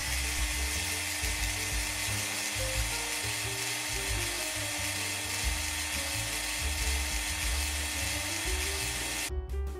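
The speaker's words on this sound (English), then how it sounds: "That was an overly long drilling sequence." A power drill bores a hole into the base of a 28mm horror miniature figure, whining loudly and continuously up close for nearly ten seconds before cutting off abruptly.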